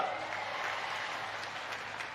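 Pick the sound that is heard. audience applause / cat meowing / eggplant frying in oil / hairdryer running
audience applause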